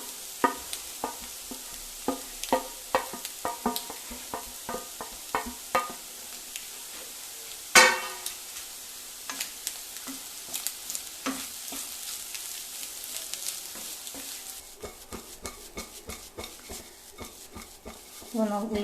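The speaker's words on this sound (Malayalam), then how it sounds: "ഇതുപോലെ അധികം ഇളക്കാതെ പതുക്കെ പതുക്കെ മെല്ലെ മെല്ലെ മെല്ലെ നമുക്ക് ഇത് ചിക്കി ചിക്കി ചിക്കി കൊടുക്കാം" Beaten egg being gently scrambled in a frying pan, soft light sizzle under repeated spatula scrapes and taps against the pan, one sharper clatter midway, close and fairly quiet.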